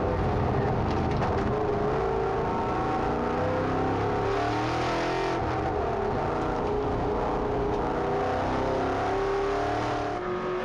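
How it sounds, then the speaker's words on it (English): V8 ute race cars at Timaru Levels Raceway in New Zealand roar continuously as one car tries to overtake another, the engines droning loud and close with shifting revs throughout. "So that's the noises of Jeff Spencer as he tries to get past Peter Robb"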